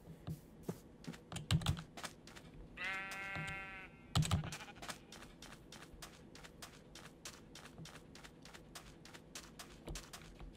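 A Minecraft sheep gives a single clear bleat amid rapid, close computer keyboard typing and clicking, with no talking.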